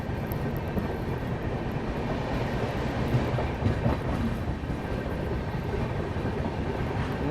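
New Delhi–Bhubaneswar Duronto Express rolling steadily along the tracks, a dense continuous rumble of wheels and carriage noise with faint clickety-clack, heard from inside the moving train throughout with no talking.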